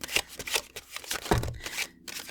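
A deck of tarot cards is shuffled by hand at close range, producing irregular papery riffles, soft slaps and quick flicks in short bursts.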